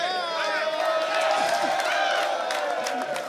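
A studio audience cheering and whooping at a sports talk show, a sustained mix of shouts and voices over faint clapping, fairly loud and continuous.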